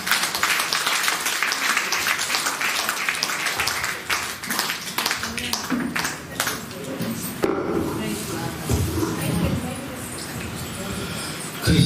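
At a church temple dedication, an audience claps in a sustained burst of sharp, dense hand claps, mixed with talking voices throughout.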